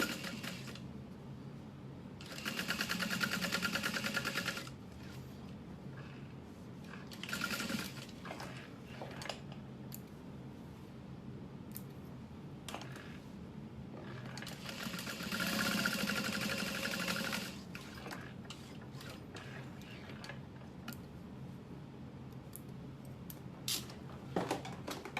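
A sewing machine base stitches along the sides of a diamond clutch wallet, running in several bursts of a few seconds each with quiet gaps between, close and moderately loud, no talk.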